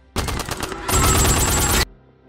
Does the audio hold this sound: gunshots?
yes